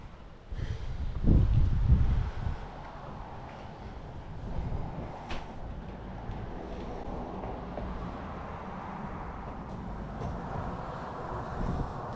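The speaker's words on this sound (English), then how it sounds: "Yeah, it's chilly today, my goodness. Yeah. And windy." Steady wind buffeting the microphone outdoors at a garage sale on a chilly day, with a louder gust near the start and a continuous low rumble throughout.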